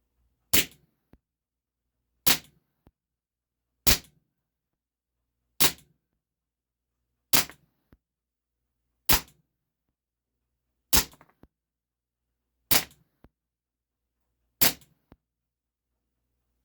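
Ten shots from a Taurus PT 24/7 G2 Cybergun airsoft pistol firing 0.25 gram BBs, each a sharp loud snap spaced evenly about every two seconds, with a faint tick of impact after each and silence between.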